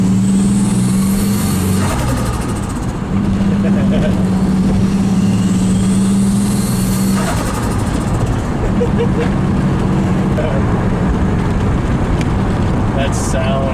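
Turbocharged car with its blow-off valve deleted, revving and shifting gears, with a loud close engine drone broken by bursts of fluttering turbo chatter between shifts and a voice talking over it.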